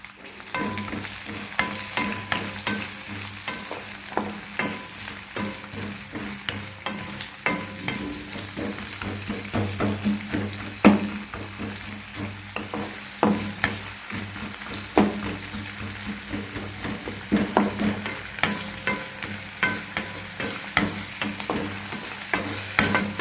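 Chopped onion with a little salt sautéing in a pan for a semiya (vermicelli) dish: a steady close sizzle with frequent scraping stirs running throughout, no talking.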